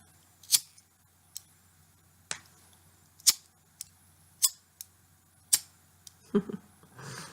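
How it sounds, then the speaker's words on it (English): A lighter clicked again and again, sharp isolated snaps spaced irregularly and heard close in a quiet room, with a faint low rumble near the end. "He's there when you light up the lighter. Click."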